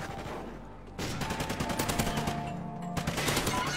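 Rapid bursts of automatic gunfire from the Call of Duty Ghosts video game on PS4, dense and continuous with stacked shots across most of the stretch and a brief lull before the firing resumes, without talk.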